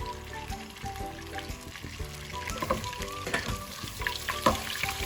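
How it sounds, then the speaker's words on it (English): Mustard oil, butter and ghee sizzle in a pan for vegetable biryani, giving a steady, close crackling hiss with occasional louder pops and no talking. "So we have added mustard oil, butter and ghee to the pan."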